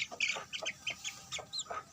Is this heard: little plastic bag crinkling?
no